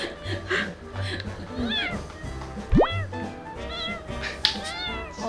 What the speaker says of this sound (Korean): 야옹 어, 야옹, 야옹이라고 어, 들었군요